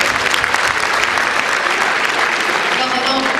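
Loud, dense audience applause at a live concert, close and sustained throughout, with crowd noise mixed into the clapping.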